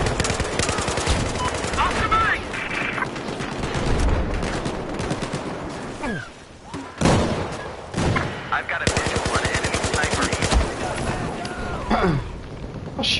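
Rapid automatic gunfire bursts in a Battlefield 4 match on PS4, dense rattling volleys with brief pauses, loud and continuous through most of the stretch.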